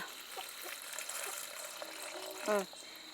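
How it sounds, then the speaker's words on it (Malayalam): Water poured into a pressure cooker holding jackfruit seeds for boiling, a steady soft splashing rush that runs throughout, with a brief louder gurgle near the end. "ഇനി നമുക്കിതിൽ കുറച്ച് വെള്ളം ഒഴിച്ചു കൊടുക്കാം"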